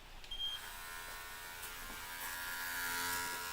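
Electric hair clippers buzz steadily and faintly nearby, a continuous high-pitched whirring hum with no talking.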